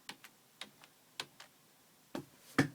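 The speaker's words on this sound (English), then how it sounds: "this G12 key, which does something on Chrome apparently, sounds different to the H key, and each key sounds different" Keys on a Logitech G510 gaming keyboard pressed one at a time, giving about eight sharp, separate clicks at uneven intervals, each with a slightly different tone. The last two presses are louder, with nothing else heard between them.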